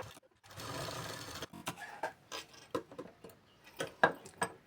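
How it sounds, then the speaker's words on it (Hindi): Quiet, close sewing machine doing a double-line top stitch on a blouse: a short whirring run, then a string of separate clicks and ticks as the fabric is adjusted. "तो यहाँ पर मैंने डबल लाइन पर टॉप सिलाई लगाई है"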